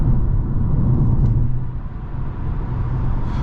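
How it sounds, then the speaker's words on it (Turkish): Steady low road rumble inside a Ford Focus cruising at 80 km/h on Michelin Energy Saver tyres, a constant dense drone with no talking. "Evet yol sesi güzel arkadaşlar. Yol sesinde sorun yok."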